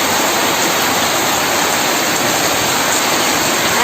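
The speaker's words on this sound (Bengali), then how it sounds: "দেখো তোমাদের বলতে বলতে বৃষ্টি নেমে এসছে" Steady heavy rain pours outdoors as a dense, unbroken hiss that stays loud and even from start to finish, with no voices over it.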